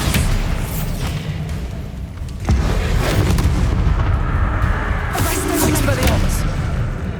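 Bombarda explosion spells cast during combat in the video game Hogwarts Legacy, with heavy booming blasts over a constant dense rumble of battle noise.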